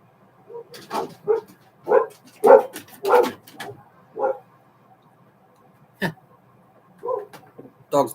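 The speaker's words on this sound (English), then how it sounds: "Them dogs barking at anything." Several dogs barking outdoors: a run of separate barks and yips spread over several seconds, fairly close, with a quiet gap before a few more scattered barks.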